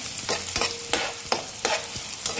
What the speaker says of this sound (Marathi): कांदा आपला चांगला लाल काढायचा